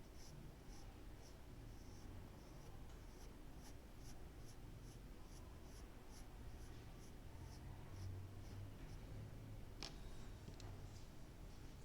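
Graphite pencil strokes scratching across paper while a portrait is sketched, a steady run of close, soft rhythmic scrapes and ticks lasting throughout, with no talk.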